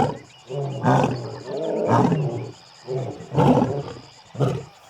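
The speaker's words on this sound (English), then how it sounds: "You cannot get sick of a lion roaring." A lion roars in a series of loud, deep, drawn-out bursts, five heavy calls with short pauses between them, close and powerful with no talk over them.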